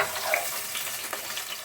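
Onion hitting hot cooking oil gives a bright, steady sizzle and crackle, close and clear, with no talking over it.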